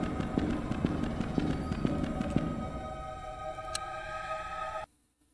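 Pistol shots ring out in the horror video game Carnival Massacre: a rapid, loud string of cracks over the first half, then a steady electronic hum that cuts off abruptly near the end.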